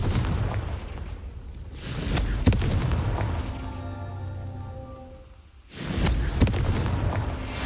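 Confringo blasting spell from Hogwarts Legacy erupting in two loud, broad booming explosions, each followed by a rumbling roar, with a quieter ringing lull between them and no talk.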